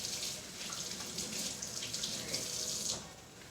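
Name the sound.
water running from a tap while washing hands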